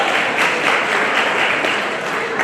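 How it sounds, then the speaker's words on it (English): An audience at an Azurest 75th anniversary gathering gives Bonnie a round of applause as she stands. The clapping is loud, full and steady throughout the brief stretch. "Everyone give Bonnie a round of applause"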